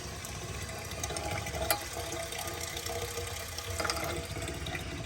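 Water rushing steadily through a Hydro-Hot hydronic heating system as it is flushed out, a continuous close hiss and gurgle with a couple of brief louder splashes, no voices.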